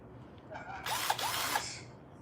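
A power drill runs in short bursts, a brief whir followed by a longer, louder whine for about a second, rising and falling in speed, close to the mic with no talk over it.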